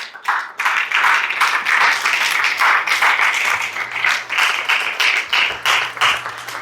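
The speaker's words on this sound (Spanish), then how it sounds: "¿Cuánto le dan ese fuerte aplauso al Señor?" A church congregation claps loudly and closely in a sustained burst, the individual claps distinct and slightly uneven, with no talking over it.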